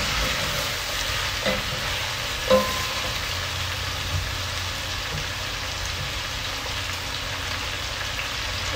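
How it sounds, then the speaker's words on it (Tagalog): Adobo fries in soy sauce and vinegar, giving a continuous dense sizzle and crackle up close, like steady rain. Only a few faint knocks break it, and no voices are heard. "Papatuyuan natin siya sa toyo at kakasuka."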